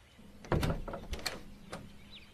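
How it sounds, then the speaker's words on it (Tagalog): A door swings open indoors with a clattering knock near the half-second mark, followed by a few scattered bumps and creaks, close and moderately loud over a low steady hum. "bumukas na naman ang pintuan"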